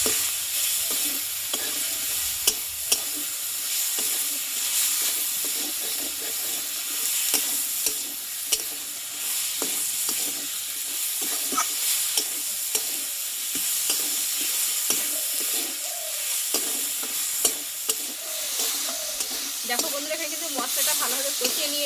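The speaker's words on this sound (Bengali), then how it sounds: "স্বাদ মতো লবণ আর দেবো হলুদ গুঁড়ো দিয়ে মশলাটা আমি ভালোভাবে একটু কষিয়ে নেবো" Masala with salt and turmeric being stir-fried for a taro stem (dudh kochu) curry, a continuous hissing sizzle broken by frequent spatula scrapes and clinks against the pan, close and busy throughout.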